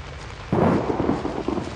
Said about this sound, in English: You know, it's kind of raining, you might want to seek cover.